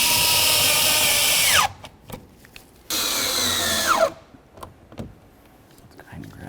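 A power drill drives in mounting bolts on a 2006-12 Ford Fusion door during window regulator replacement, two steady whirring runs each ending in a rising pitch, then faint clicks and handling noises.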